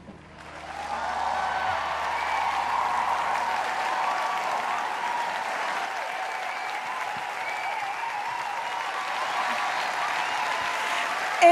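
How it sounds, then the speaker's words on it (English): A Lagos crowd at the 2018 AMVCA awards gives a standing ovation, with sustained, steady applause that swells in quickly and holds at full strength throughout. "It's a standing ovation right here in Lagos at the Amvca."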